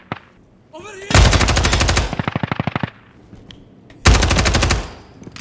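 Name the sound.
distant gunfire in a video game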